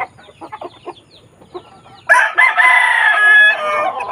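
Pet chickens, including a hen that has just laid an egg: soft clucks at first, then a loud, close burst of crowing and cackling that keeps going to the end.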